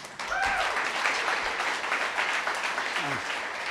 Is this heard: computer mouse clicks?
no